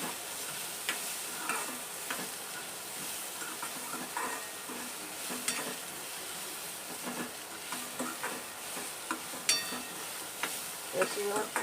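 Cluster beans (gavar) being stirred into masala as they fry, a continuous soft sizzle with irregular spoon scrapes and clinks, close by and without speech.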